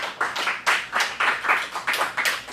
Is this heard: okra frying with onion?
no